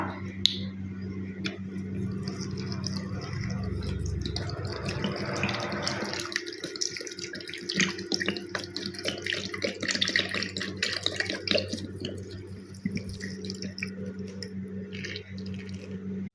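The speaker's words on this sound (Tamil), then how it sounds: "ஃபைனலாக நம்ம 10 லிட்டருக்கு வந்து ஆயில் உள்ளே சேர்த்தாச்சு" Oil pours steadily into a large 10-litre batch of homemade hair oil mixture, a continuous close liquid splashing and gurgling without pause and with no talking.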